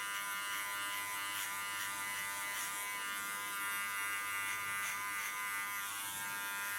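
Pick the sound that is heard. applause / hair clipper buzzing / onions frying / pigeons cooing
hair clipper buzzing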